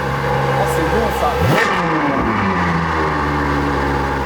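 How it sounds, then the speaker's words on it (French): A Ferrari 812 Superfast's V12 revs hard, a sharp rising blip and sweep that then settles to a throbbing idle, with excited voices talking over it. "V12 Ferrari 812 Superfast"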